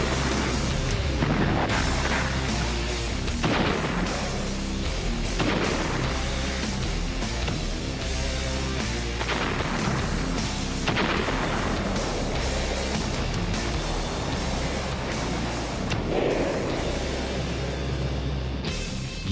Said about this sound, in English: American soldiers unleash a 140-gun artillery barrage.